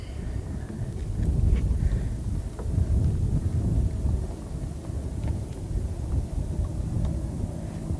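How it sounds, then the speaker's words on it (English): Steady wind buffeting the microphone out on the water during a summer walleye fishing trip, a continuous low rumble with a few faint knocks from the boat. "the wind's picking up a little bit"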